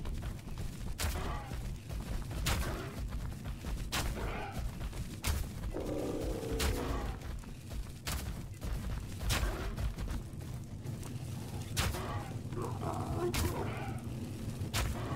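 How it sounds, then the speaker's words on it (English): Tranquilizer shots fired in the survival game Ark Survival Evolved during a creature taming, sharp repeated gunshot cracks at irregular intervals over steady game ambience and a faint hum, with a voice talking throughout. "Put a couple more tranks into him."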